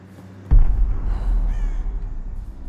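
Crows caw in the Tomb Raider video game, a few harsh calls over a deep rumbling background after a sudden low thump.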